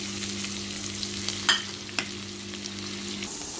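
Onions with cumin seeds and bay leaves frying in oil in a home kitchen pan, a steady close sizzle with a couple of sharp spoon clinks and stirring scrapes partway through, no voices.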